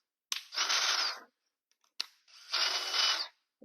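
A DeWalt Atomic cordless drill runs in two short bursts, each starting with a click of the trigger and then a steady whirring motor about a second long, with a quiet pause between them.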